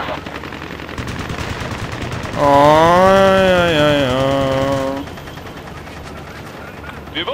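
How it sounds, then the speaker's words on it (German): Rapid machine-gun fire rattles from an aircraft in the combat flight game Ace Combat Assault Horizon, a loud sustained burst with a droning tone over ongoing engine noise, while a voice speaks briefly. "Schuss, Schuss, Schuss"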